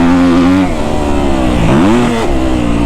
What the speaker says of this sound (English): If you really like to rev out your bikes, you'll love a KX250F